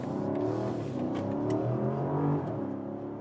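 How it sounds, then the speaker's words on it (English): A BMW V8 petrol engine in an X-series SUV accelerates hard, a loud, steady growl with rising and falling harmonic tones, heard from inside without any talk. "there you hear the V8, definitely even louder than in the US versions without that petrol engine particle filter"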